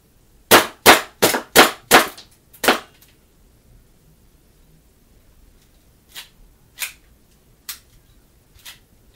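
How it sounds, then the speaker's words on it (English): A DIY airsoft pistol built as a Metal Gear Solid 3 "Snake Match" replica fires at a small white styrofoam box target: five sharp, loud snaps in quick succession, then a sixth, followed later by several fainter clicks, with no talk. "So before I actually start shooting, that's gonna be our target, that little styrofoam white box thing."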